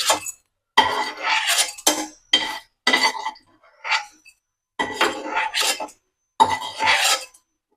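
A spoon scrapes and scoops thick chutney mixture from a pan, a series of close, loud scraping and clinking strokes in irregular bursts separated by short silent gaps.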